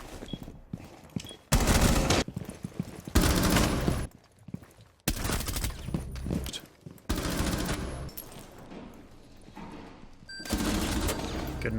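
Rapid gunfire from the tactical shooter Rainbow Six Siege, played on console, comes in loud repeated bursts separated by brief quieter gaps, with sharp shots and a busy game soundscape underneath.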